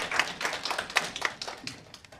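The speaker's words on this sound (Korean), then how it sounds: "기숙사 아치회 회장 후보 배성환 후보에게 큰 박수 부탁드립니다." A student audience applauds a dormitory council president candidate at a university election debate, a brief burst of scattered, fairly distinct hand claps that thins out toward the end.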